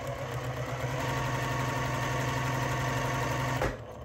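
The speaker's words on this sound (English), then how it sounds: "as I'm sewing, I'm making sure that the corner or the point of this fabric stays on this black line." A sewing machine stitching quilt fabric for a sampler block, a close, steady rapid whirring chatter that runs evenly for several seconds and then stops abruptly.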